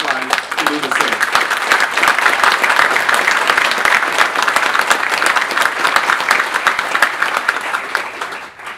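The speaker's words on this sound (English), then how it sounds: "An applause for paying taxes." Sustained applause from a large audience at a territorial State of the Territory address, steady dense clapping holding at full strength for about nine seconds before tapering slightly at the end.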